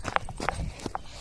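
Horse hooves clip-clop at a rural farmyard after rain, a handful of crisp, fairly close hoof strikes in an uneven walking rhythm.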